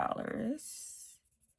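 Marker or pencil coloring in a small dice drawing on a paper savings chart, a quick scratchy scribbling that runs for about a second and then stops, recorded close up with a brief hiss.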